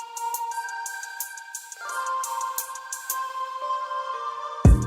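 A melodic electronic phone ringtone plays a stepping tone pattern, clear and fairly loud, ending in an abrupt thump.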